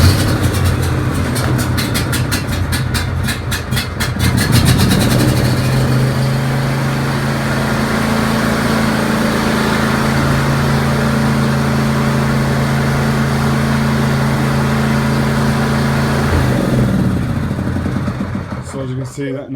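A John Deere D140 lawn tractor engine running close by, a loud steady rumbling drone with a rattling start that settles into an even hum, with a voice speaking over it.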